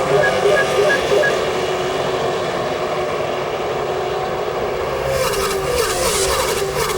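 NASCAR stock cars roar around Daytona on a restart, a dense, loud wall of engine noise from the pack with a rising whine near the end, under excited race commentary.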